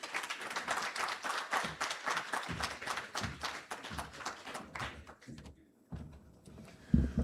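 Audience at a university campus family orientation claps in a dense burst that thins to scattered claps and fades out, followed by a couple of isolated knocks.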